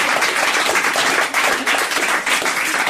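A live audience applauds and cheers at a French television variety show, dense sustained clapping filling the whole stretch at steady loudness with no talk on top.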